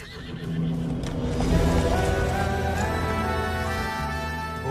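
A horse gives a long, loud neigh that rises and then trails off over several seconds, with faint hoof clatter underneath and no one speaking.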